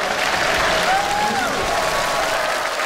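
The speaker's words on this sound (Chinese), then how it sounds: "再次给他掌声鼓励。" A studio audience at the singing contest I Am a Singer, season 2, gives loud, steady applause throughout, close and dense, with faint vocal tones drifting underneath.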